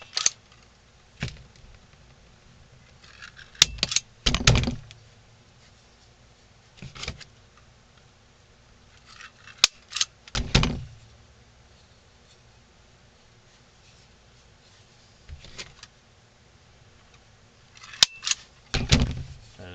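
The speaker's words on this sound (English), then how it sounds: "We'll staple this on." A staple gun fastens a hand onto a wooden ventriloquist dummy, giving several sharp, isolated snaps spaced a few seconds apart, each fairly close and crisp against a quiet background with no talking.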